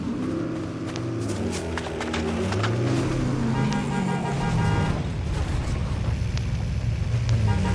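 A car drives in a chaotic online video game, with a steady engine and road rumble, a sustained horn-like toot and scattered sharp clanks and bangs mixed in, all fairly loud and close.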